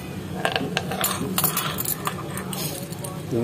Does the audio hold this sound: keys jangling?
yes